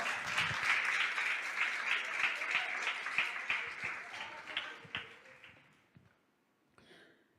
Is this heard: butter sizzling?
no